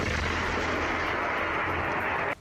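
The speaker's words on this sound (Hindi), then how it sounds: "रूसी सेना ने एक इलाके में एक के बाद एक कई रॉकेट दागे जो तेज आवाज करते हुए टारगेट की तरफ निकले" Russian army rockets fired one after another give off a loud, sustained roaring rush that holds steady for a couple of seconds and then cuts off abruptly.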